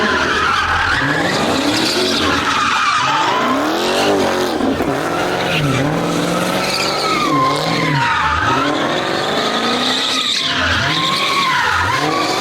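Dodge Hellcat and Scat Pack cars spin at a night street takeover, tires skidding and squealing loudly and continuously for the whole stretch, engines roaring and rising and falling in repeated sweeping waves.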